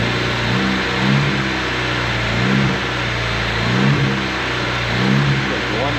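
A 1999 Honda Civic engine idles steadily after a 5-speed manual swap. It holds a low, even drone with a few soft swells in revs, close by and alone.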